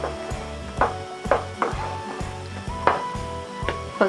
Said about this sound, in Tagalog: So, kailangan po nating haluin.